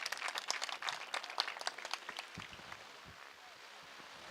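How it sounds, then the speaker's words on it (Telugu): A crowd applauds at a Dr B.R. Ambedkar statue unveiling event in Srikakulam: brisk clapping up close that thins out and fades to scattered claps. "మరొకసారి గట్టిగా క్లాప్స్ కొడదాం"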